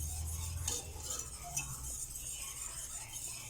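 A whisk stirs cream mixture for burfee in a pan over a low flame, with soft swishing and light metallic clinks against the pan, quiet and close.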